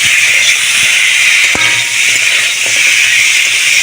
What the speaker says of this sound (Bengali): কেটে রেখেছিলাম যে ডাঁটা, সেটাই আমি দিয়ে দেবো, দিয়ে ভালো করে কষিয়ে নেব